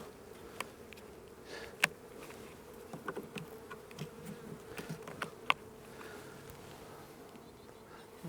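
Honey bees buzzing around an open hive during an inspection, a continuous close drone with a few sharp clicks and knocks from handling, no talk.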